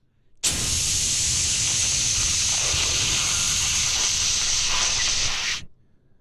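A voice imitates a pipe bursting and water spraying out, a single loud, sustained hiss that cuts in sharply, holds steady for about five seconds and then fades away.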